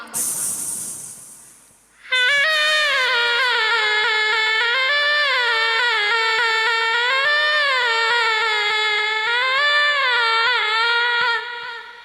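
A performer in a junior mimicry competition at a Kudumbashree arts festival imitates a circus snake charmer's pipe with their voice. A brief hiss comes first, then a loud, sustained, reedy melody wavers for about nine seconds before stopping.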